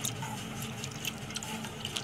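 Water poured from a glass into a pan while making Kolkata-style maskat halwa, a soft, steady splashing trickle, fairly faint and close, with no talk.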